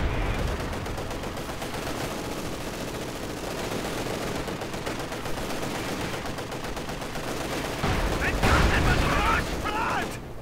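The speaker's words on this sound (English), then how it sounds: "Machine gun bunker here holding up the conscripts." Machine gun fire crackles in a World War II strategy video game, a dense steady stream of bursts mixed with other battle noise, swelling louder near the end.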